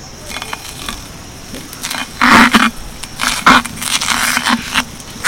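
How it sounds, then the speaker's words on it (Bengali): Flour papad crackers frying in hot oil give irregular bursts of crackling and bubbling, loud and close, in uneven surges with quieter gaps. "তো চলো বাকি আটার পাঁপড়গুলো একইভাবে ভেজে নিই।"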